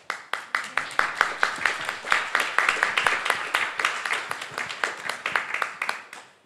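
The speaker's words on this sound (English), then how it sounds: "So I think that by itself deserves already an applause." Applause from a conference audience at a research meeting in Kyiv: a moderate crowd clapping in a quick, sharp, evenly paced rhythm for several seconds, heard from a middle distance with no talking over it.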